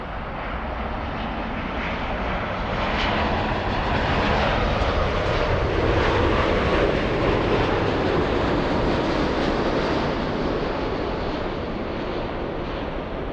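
A jet airliner takes off from runway 24 Left at LAX, a loud, continuous broadband engine roar that swells and holds steady throughout, heard from a fixed spot near the airfield with no talking.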